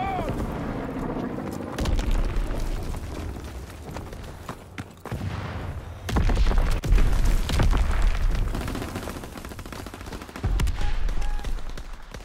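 Bomb drop in Call of Duty WWII, with loud bursts of explosions and gunfire rolling in waves over several seconds, voices talking over the battle.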